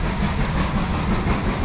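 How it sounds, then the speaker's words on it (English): A train rumbles past close by at Didcot Railway Centre, a dense continuous roar of wheels and rail noise filling the moment. "Oh, I can hear another train coming."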